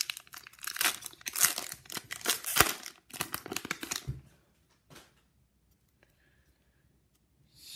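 Foil pack of hockey trading cards torn and crinkled open, a dense burst of sharp crackling and ripping for about four seconds, then a few soft card shuffles near the mic before near silence.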